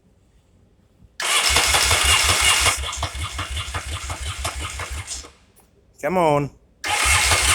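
A two-carburetor engine in a shop, not run for a while, cranks with a rapid rhythmic chug, briefly catches and runs, then dies and is cranked again; a voice speaks briefly in between.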